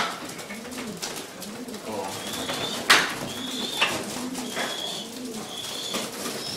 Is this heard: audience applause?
no